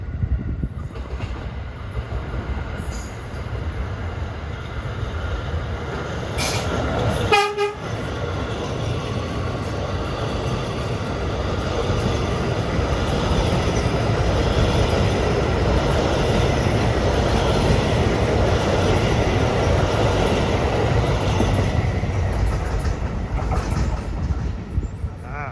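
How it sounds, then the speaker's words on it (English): An R179 subway train on the Far Rockaway line at Beach 44th Street rolls through loud and close, a continuous heavy rumble with a brief burst of wheel squeal partway through that swells as the cars pass. "Far Rockaway bound R179s at Beach 44th Street."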